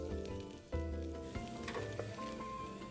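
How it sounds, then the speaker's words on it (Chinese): Shrimp and chive cakes deep-fry in oil and are turned repeatedly, producing a quiet, steady sizzle with a few soft bumps, set against a faint tonal background. "油炸过程中，记得不停翻面，确保生坯受热均匀"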